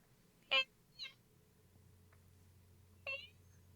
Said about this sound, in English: It's a cat yowling.